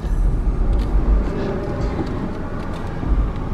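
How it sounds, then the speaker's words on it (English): A bus on a city street in East St. Louis, giving a steady, loud low rumble of engine and road noise that holds throughout as it drives past close by. "The bus trying to get past me"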